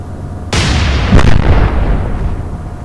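A heavy naval blast in Atlantic Fleet, a WWII Battle of the Atlantic game: a loud, abrupt boom followed by a second crashing impact and a long rumbling decay.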